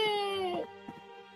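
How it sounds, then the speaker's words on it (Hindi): An old woman in a cartoon wails on a deserted road, a single drawn-out tremulous cry that drops off after half a second into softer sobbing breaths, likely a voice actor performing the weeping. "इस सुनसान रास्ते में ये रोने की आवाज किसकी है?"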